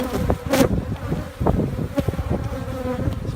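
Honeybees buzzing around an opened backyard hive, a dense continuous drone with individual bees passing close and loud, plus a few knocks from handling the hive.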